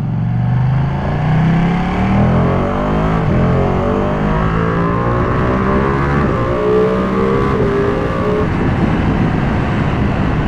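A 2021 Ducati Panigale V2 Troy Bayliss limited-edition sport motorcycle engine revving while being ridden, rising and falling through the gears in a continuous loud drone with wind rush behind it.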